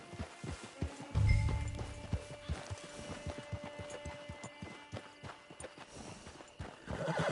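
A horse in the Red Dead Redemption 2 video game clip-clops along in a steady hoof rhythm, and a loud whinny breaks out near the start, with faint game ambience underneath.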